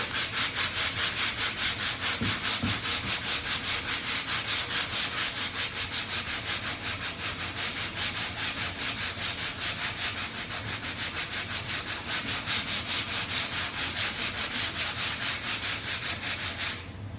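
Steady hand sanding with 80 grit sandpaper over body filler around a rivet on an autobody panel, a continuous dense scratchy rasp of back-and-forth strokes, close and loud with no talk.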